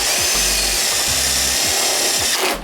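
A power drill whirs loudly and close, its motor pitch shifting in short bursts as it bites into the metal body of a Dodge Charger, with grinding texture throughout.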